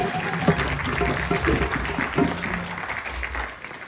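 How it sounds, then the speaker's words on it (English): Applause at a funeral ceremony, a crowd clapping in a dense, even wash that fades toward the end, with faint voices under it. "Give a nice round of applause."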